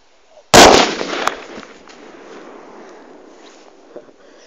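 A La Bomba firecracker goes off outdoors with a single loud, sharp blast, followed by a brief crackle and a long fading echo.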